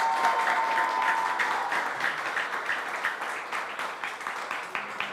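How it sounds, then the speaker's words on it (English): Audience applause at the Ajyal Film Festival, a steady wash of many hands clapping with some cheering, sustained and fairly loud throughout without talk. "Give me a big cheer from the room."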